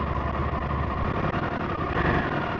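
A cold EBR Buell 1190SX V-twin sportbike engine idles close by, a dense, steady low rumble with slight unevenness throughout, no voices heard.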